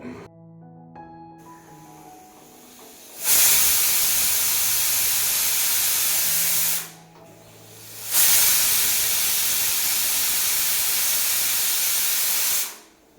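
A pressure cooker of apples boiling on a gas stove whistles twice, each a loud, steady steam hiss lasting several seconds and separated by a short quieter pause, with no voices heard.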